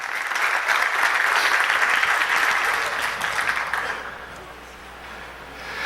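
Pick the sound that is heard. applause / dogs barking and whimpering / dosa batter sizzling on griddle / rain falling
applause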